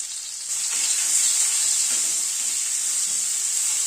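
Kohlrabi fries in hot oil seasoned with black cumin seeds, salt and turmeric, giving a loud, steady, bright sizzle that swells slightly after the first half second and holds without a break.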